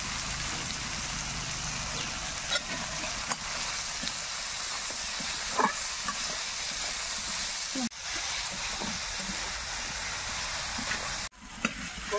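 Mahua flower chutney frying in a pan with salt and turmeric, a steady sizzling hiss with occasional stirring scrapes and clinks throughout.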